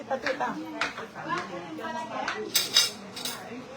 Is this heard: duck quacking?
no